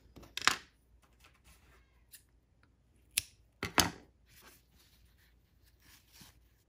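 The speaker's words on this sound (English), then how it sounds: "we are going to cut the yarn" Scissors snip through crochet yarn at the end of a coaster, giving a few sharp, close, quiet cuts spread out over several seconds against near silence.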